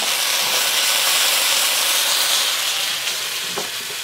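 Bean sprouts stir-fry in a hot wok for soy sauce chow mein, a loud, close, continuous sizzling hiss with a few faint clinks of the utensil near the end and no talking.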